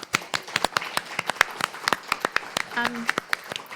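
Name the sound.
audience applause for panelists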